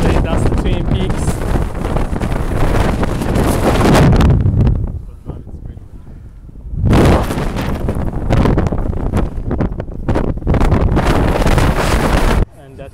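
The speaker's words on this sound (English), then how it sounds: "It's nice, but it's very windy actually." Strong wind in San Francisco buffets the microphone in loud roaring gusts, briefly dropping to near quiet before blasting again, harsh and close throughout.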